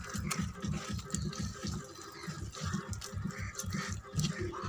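Water poured into a thick potato batter for aloo bora, a steady close trickle with soft rhythmic sloshing and mixing throughout, no voices.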